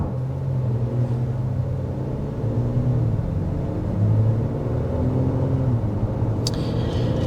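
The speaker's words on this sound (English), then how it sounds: "just doing a little bit more of a gingerly acceleration there" A 2025 Honda Pilot Black Edition V6 pulls away gently, a smooth low rumble that rises and falls in pitch as it picks up speed, steady and fairly close, with a brief clatter near the end.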